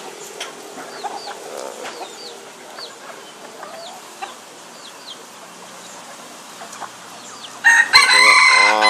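A wild junglefowl rooster crows nearby over a background of chirping birds and rustling, with a louder, harsh burst of sound near the end.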